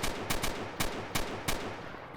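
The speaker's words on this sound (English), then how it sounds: "I do like the way the gun spits out a load of crap when you fire it." Gunfire from a weapon in the video game STALKER Call of Pripyat: six sharp shots at an uneven pace, fairly close, with no voices.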